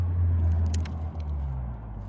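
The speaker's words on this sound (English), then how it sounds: "there's cars outside and they're pretty noisy" Cars on a road outside a campsite along the South West Coast Path, a steady low rumbling traffic drone with a faint passing vehicle, continuous and moderately loud with no talk.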